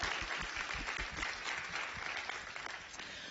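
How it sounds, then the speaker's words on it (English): Audience at an arts panel discussion giving a warm round of applause, steady dense clapping from a room full of people that tapers slightly toward the end. "I love a good round of applause"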